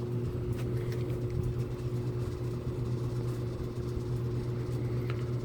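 A 1982 Lakewood model P-222 electric fan runs steadily on its low setting, giving a constant close hum with an even motor drone and soft airflow throughout.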